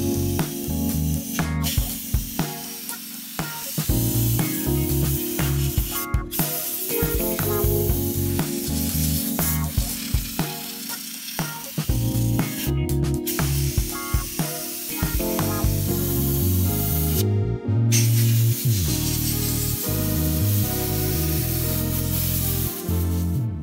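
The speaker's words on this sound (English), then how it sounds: "I use a compressed air to dry the intercooler." Compressed air blasts loudly and continuously against a Hyundai Accent intercooler to dry it, a close, harsh hissing rush with brief breaks and shifting pitch as the nozzle moves.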